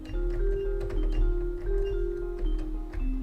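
In-scale keys played on a Patchwork synthesizer in Fortnite Creative give a stepping sequence of sustained electronic tones that shift pitch every half second or so, steady and moderately loud over a low drone, with no talking.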